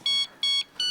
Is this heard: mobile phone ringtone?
yes